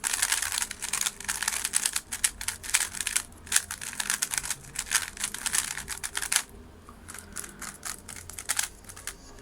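Rapid, dense plastic clicking and clacking as a lubricated Rubik's cube is twisted quickly, close up, then briefly quieter before the turning resumes.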